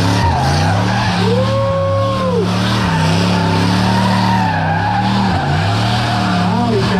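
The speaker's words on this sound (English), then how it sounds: "amazing part is, Eric, the previous burnout is still smoldering" A car engine roars steadily while tires squeal and skid in a sustained burnout at a burnout competition, loud and close, with pitch rising and falling as the revs change.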